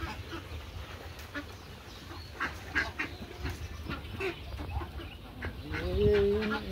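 Ducks kept on a desi poultry farm give scattered quacks and calls at moderate distance over a steady farmyard background, with a louder call near the end.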